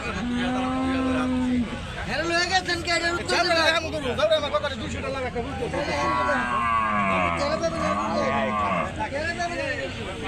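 Several cattle moo repeatedly at a livestock market, some long and drawn out, over a busy background of people talking nearby.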